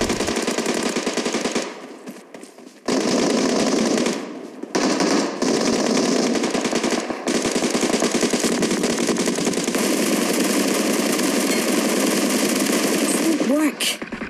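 Sustained automatic gunfire from an MK rifle in BGMI (Battlegrounds Mobile India) during a close squad rush, long rapid bursts with short pauses, loud and dense, with a voice speaking underneath at times.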